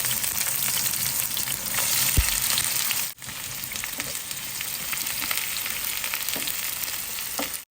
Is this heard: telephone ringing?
no